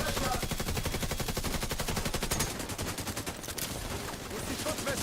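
Sustained automatic gunfire in the online shooter The Division 2, a continuous rattling burst of close shots with brief dips, loud throughout.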